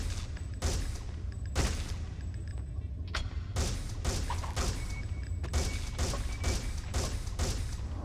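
Repeated sharp pistol shots in the Alien Resurrection video game, a dozen or so spaced bursts over dense game noise, loud and close with no talking.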